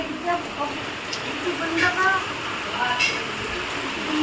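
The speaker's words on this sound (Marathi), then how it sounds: "किती छान वाटतंय पाऊस" Steady rain falls on a monsoon morning, a soft continuous patter with scattered drip sounds, and people talk faintly over it.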